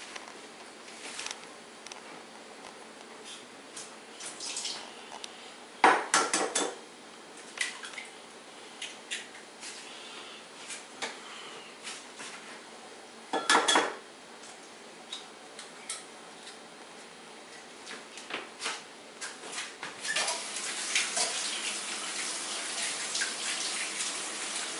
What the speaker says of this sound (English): I'm just gonna whisk that together.